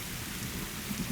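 Steady rain falls with a dense, even hiss and a low rumble beneath, like a downpour during a storm, continuous with no voices.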